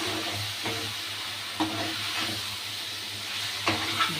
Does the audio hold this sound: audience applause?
no